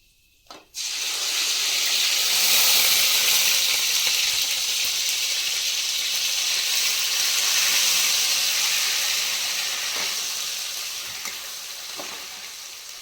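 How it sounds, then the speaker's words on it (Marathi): Spice masala hits hot oil for a dhaba-style egg curry, opening with a brief knock and then a loud, sustained close sizzle and hiss that holds steady before easing slightly near the end, with no speech. "आता मसाला तेलामध्ये टाकून परतून घेतलाय."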